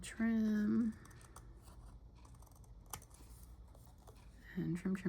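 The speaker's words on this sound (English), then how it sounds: "Okay, and I'm going to cut this here." Scissors trim material for a Mushu-themed pin craft, several crisp close snips between stretches of speech at the start and end.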